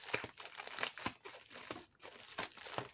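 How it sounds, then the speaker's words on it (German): Plastic bag being peeled off a diamond painting where it sticks, giving close, irregular crinkling and crackling bursts with brief tearing rustles over a few seconds, no talk. "Klebt die Tüte am Bild fest, das ist immer ganz schlecht."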